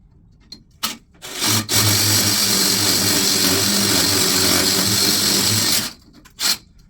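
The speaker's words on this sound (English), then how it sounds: "So it only takes a few seconds to drill through." A power drill bores bolt holes for basement wall straps, a steady loud whine lasting about four seconds, with brief knocks before and after.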